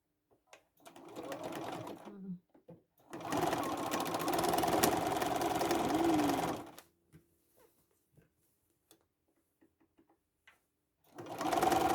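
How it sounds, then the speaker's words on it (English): A sewing machine stitches across the bottom of a red velvet tote bag in two steady close runs, the longer one a few seconds, separated by quiet pauses, with another burst starting at the end. "I'm going to sew"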